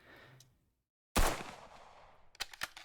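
A single gunshot from a firearm in an Unreal Engine first-person shooter cracks out loud after a moment of silence, then decays. A few sharp mechanical clicks of the weapon cycling follow.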